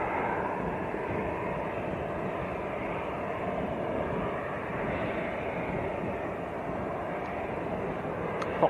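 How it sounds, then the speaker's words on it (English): EgyptAir Airbus A321neo from Cairo touching down at Manchester Airport, heard as a steady, broad jet roar held at a constant level from a distance, with no one speaking. "Here comes EgyptAir from Cairo, just touching down. A321neo"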